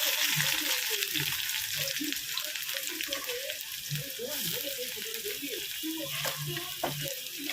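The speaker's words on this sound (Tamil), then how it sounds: "கடுகு வெந்தயம்லாம் நல்லா பொரிஞ்சு வரட்டும்." Mustard seeds and fenugreek sizzle and crackle in hot oil for a fish curry, a close, continuous frying hiss dotted with small pops and stirring, alone without speech.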